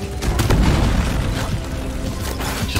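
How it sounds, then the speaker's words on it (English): Deep Rock Galactic co-op combat with grenades fired and exploding, a dense continuous roar of booms and blasts filling the whole stretch, loud and close with no clear gaps. "Just firing grenades over Vic's head."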